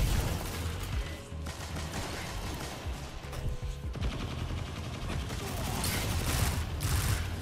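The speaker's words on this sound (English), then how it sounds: "Gonna shred this guy with the Vigilance Sling." Vigilance Wing pulse rifle gunfire in Destiny 2, with dense rapid bursts of shots and mechanical clatter running almost continuously, loud and close.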